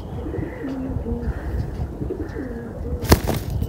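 Sialkoti pigeons cooing close by in a series of soft, low, rolling coos at a steady rhythm, followed near the end by a single sharp click.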